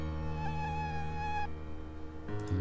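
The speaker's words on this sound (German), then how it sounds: "Irgendwelche Mücken?" Mosquitoes buzzing in the video game Delaware St. John, a thin whining drone hovering steadily over a low ambient game backdrop, fairly faint and continuous with no speech.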